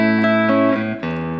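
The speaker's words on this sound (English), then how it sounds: "This is the plate reverb setting," Guitar notes through the plate reverb setting of an Electro-Harmonix Oceans 11 pedal, a few sustained plucked chords with a lush, smooth tail, loud and close with no talk.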